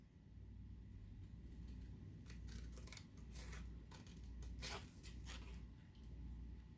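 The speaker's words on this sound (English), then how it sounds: "So I'm going to fussy cut this out too." Scissors snipping through paper while fussy cutting a hat shape, a run of quiet, close, irregular snips over a low steady hum.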